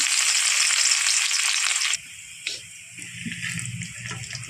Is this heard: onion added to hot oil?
yes